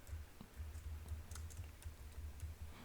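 Someone types on a computer keyboard at a steady pace, with soft, close key clicks over a low background hum.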